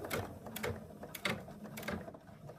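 An embroidery machine stitches a straight line down the middle of a plush monkey ear design in the hoop, giving a steady run of quick repetitive mechanical clatter and ticking at a close, moderate level with no voices.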